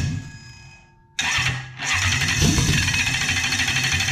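Toyota 1UZ-FE V8 engine with no airflow meter or EFI temp sensor connected: a whine and brief pause, then loud starter cranking that catches into rough, roaring engine noise, close and sustained.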